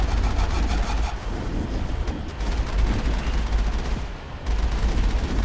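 Sustained gunfire in a Mass Effect firefight, with dense rapid shots and rumbling impacts continuing almost without pause for several seconds, loud and close, with a brief dip before the shooting resumes.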